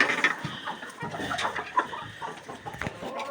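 Barnyard chickens cluck and murmur softly in a cold winter coop after being fed, with scattered short calls rising and falling close by and no talking.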